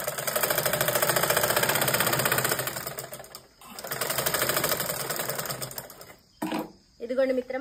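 Sewing machine double stitching a dress shoulder: fast rhythmic mechanical whirring in two long runs separated by a short pause, close and steady, followed by brief handling noise and a few spoken words at the end.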